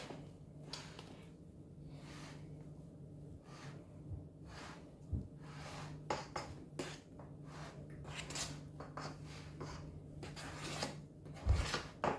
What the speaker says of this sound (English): Just use my spatula to put it down a bit.